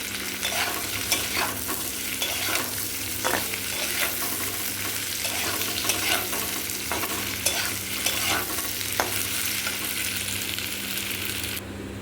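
Spiced vegetable curry sizzles steadily in a pan while a spoon scrapes and stirs it, giving repeated sharp clatters over a continuous frying hiss, close and fairly loud throughout with no talk.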